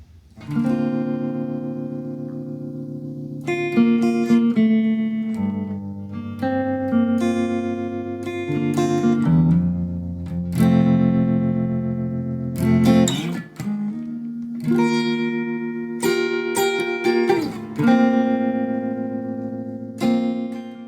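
Electric guitar played through a Fender Tone Master amp in a Stranger Things-style synth-like tone, with sustained notes and chords changing every few seconds, steady and close, with no voices.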